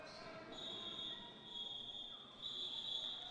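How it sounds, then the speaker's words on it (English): A referee's whistle blows to end a jam at a men's roller derby national tournament, two long loud shrill blasts over steady arena crowd noise and chatter. "that very loud whistle can only mean the end of the jam"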